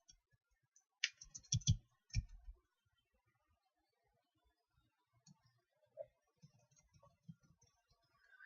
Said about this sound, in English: I click stop recording and it won't stop.